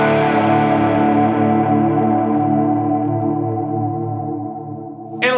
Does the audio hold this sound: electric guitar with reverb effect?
yes